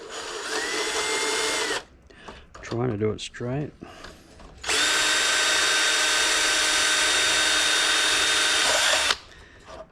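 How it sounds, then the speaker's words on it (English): Long drill boring pilot holes from the inside of a Traxxas Spartan RC boat hull, two sustained high whining bursts with a short pause between, someone speaking briefly in the gap. "Okay, so now I'll just do all my drilling from the inside."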